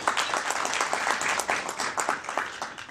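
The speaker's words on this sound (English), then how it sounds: "Please give a round of applause for being here tonight." Applause at a formal evening cocktail party and trade fair launch in Bulawayo, a crowd clapping with a busy, uneven patter of individual hand claps that rises and falls over several seconds.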